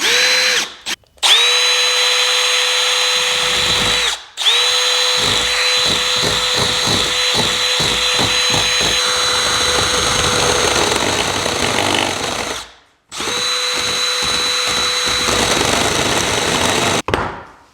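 A corded drill spins a straight router bit into softwood in several loud bursts, whining up to speed then grinding and chattering as it bites, with short pauses between runs.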